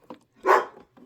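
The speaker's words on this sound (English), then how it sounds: "You're going to get a little bit of barking dog." A dog barks indoors nearby: a short yip followed by one loud bark and another starting at the end, with no talk.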